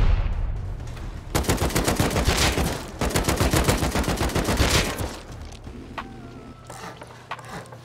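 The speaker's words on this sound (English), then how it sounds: "I heard the explosions" Heavy video game gunfire and blasts during a base raid rattle in long rapid bursts, loud and close, then thin out into scattered shots and mechanical clicks.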